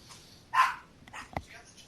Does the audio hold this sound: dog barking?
yes